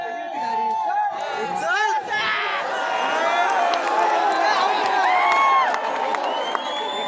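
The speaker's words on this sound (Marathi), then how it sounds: "जल्लोष" A dense crowd cheers and whoops continuously throughout a district kabaddi final between Kolhapur and Ahilyanagar, many voices loud and sustained with shrill shouts rising over the roar.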